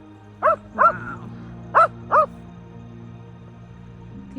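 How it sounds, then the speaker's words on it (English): Shetland sheepdogs barking outdoors on a hike, four short sharp yips in two pairs, moderately near over a quiet background. "These barking shelties."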